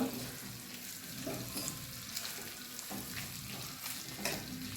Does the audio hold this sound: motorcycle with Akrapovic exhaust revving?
no